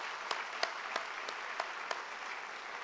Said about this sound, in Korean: 하나님 앞에 영광의 박수 올려드립니다